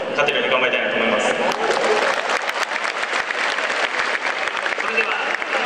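Baseball fans in a stadium applaud during a post-game hero interview, a loud, continuous roar of clapping and crowd noise with a voice carrying over it early on.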